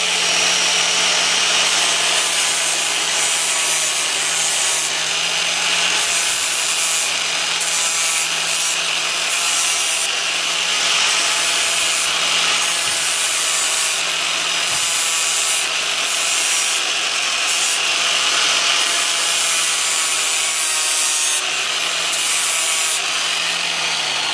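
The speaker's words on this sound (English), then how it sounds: "in order to sharpen it, you've got to follow the contour of the blade" A lawn tractor mower blade from an MTD Yard Machines tractor is sharpened along its contour, giving a loud continuous abrasive grinding rasp with slight rhythmic pulses, close up and steady throughout.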